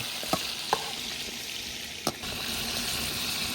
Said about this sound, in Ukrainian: крила наші ось так ось по фітюрі обжаруються